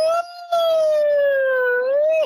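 A voice imitates a loud siren, holding a single sustained wailing tone that dips slightly and rises again over a couple of seconds after a brief break, close and alone.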